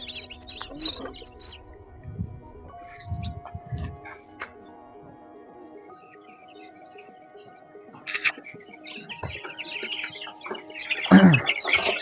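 Golden Misri chicks and fowl on a small farm give scattered chirps and clucks, mostly moderate and intermittent, with a louder burst of calls toward the end over a quiet background hum.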